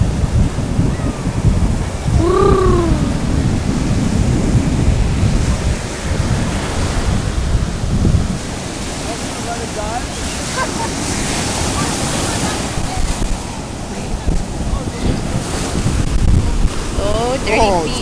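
Ocean waves wash steadily onto the beach at Ocean Beach, San Diego, with heavy wind buffeting the microphone throughout, a voice briefly rising over the surf.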